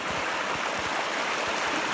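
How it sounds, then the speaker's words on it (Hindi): The Hansari river rushes past a bamboo fish trap in a strong current, a dense, steady, loud roar of flowing water heard close and alone, with no talking. "देखिए पानी का करंट कितना ज़ोर से है"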